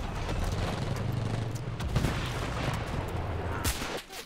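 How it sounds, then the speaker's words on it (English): Machine gun fire in the Enlisted video game, a dense, continuous rattle of rapid gunshots with booming battlefield noise, loud and close, running for several seconds before cutting off abruptly. "I'm assuming that's like a machine gun"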